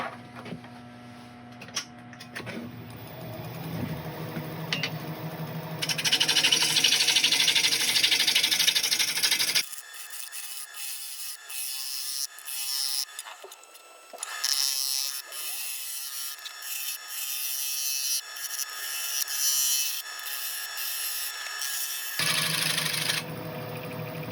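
A wooden bowl blank spins on a wood lathe, the gouge cutting with a steady rasping whir that shifts in tone as the cut changes, with a brief quieter stretch midway before the heavier cutting noise returns.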